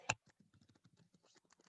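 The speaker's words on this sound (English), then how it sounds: "I'm typing and trying not to fall behind" Soft, scattered keystrokes on a computer keyboard tap irregularly and quietly during a student government meeting, following one sharper click at the start, with no talking over them.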